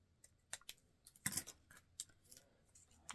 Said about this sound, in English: And then you're going to cut the tip off.